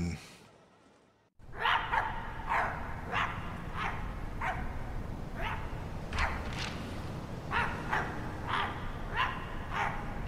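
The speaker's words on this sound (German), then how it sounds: "Aber was machen wir mit den Hunden?" Several dogs bark repeatedly in the video game My Friendly Neighborhood, sharp mid-distance barks in an irregular rhythm over a steady background hum after a brief quiet start.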